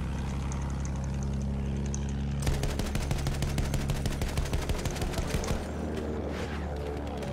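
Video game gunfire in a match with aircraft: a steady engine drone, then a long burst of rapid automatic shots rattling on for several seconds, with no talk.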